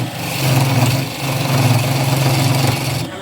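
A gouge cutting dry ash wood on a spinning lathe makes a loud, close, continuous rough whirring drone with a rapid pulsing texture, swelling and easing in two long passes with no voices.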